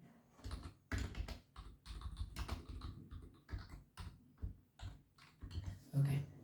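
Rapid clicking taps on a computer keyboard while Python code is typed, in irregular bursts, soft and close, with faint background sound.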